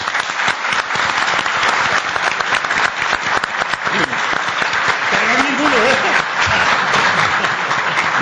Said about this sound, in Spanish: Un aplauso, José Antonio Horta